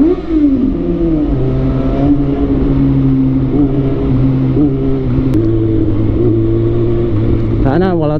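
Motorcycle engine running steadily while riding, with sustained harmonic drone and shifting pitch, close and loud, and a brief rev near the end; someone talks over it.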